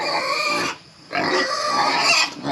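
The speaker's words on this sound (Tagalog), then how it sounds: "So, ayan din yung ating mga inahining baboy," Sows on a farm grunt and squeal loudly and close by in two busy bursts separated by a short pause, with no talking over them.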